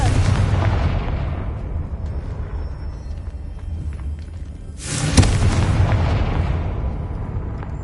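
A Confringo blasting spell in Hogwarts Legacy lets off a loud booming explosion that rumbles on, then a second sharp blast hits around the middle and leaves a long rolling roar, with no voices.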